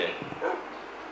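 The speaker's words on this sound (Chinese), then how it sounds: "狗狗哎" A dog barking in the video game Minecraft, one or two short yips close up over a faint background hum, lasting about a second.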